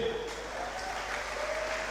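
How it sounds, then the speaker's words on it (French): Applause for Johan, a boxer in the blue corner at an amateur boxing event, a soft, even crowd clapping at a distance, with a faint tone and murmuring in the hall. "que l'on peut applaudir une nouvelle fois s'il vous plaît."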